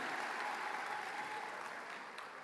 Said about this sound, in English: give our graduates a thunderous round of applause